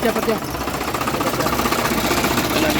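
An Isuzu Crosswind engine idles with a rough, strongly vibrating knock, a dense continuous clatter heard close, with people talking faintly underneath.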